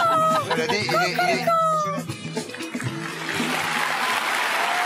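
A person imitates a rooster crow, calling out four times in a row in a lively voice, loud and close, amid the buzz of a televised farm reality show studio.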